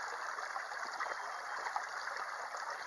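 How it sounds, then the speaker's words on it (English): Filtered water streams steadily from a squeezed Sawyer filter bottle, a continuous close trickle with a soft splashing texture and no pauses or voices. "The idea is just a little squeeze, and you got water coming out."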